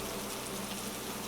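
Rain falls steadily, a soft, even hiss with no other sounds.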